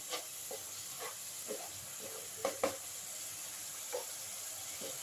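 A spice paste with turmeric and salt, for a potato and taro dish, fries in a pan with a faint, low sizzling hiss. A few soft stirring clicks and taps break through now and then, close and quiet, with no speech.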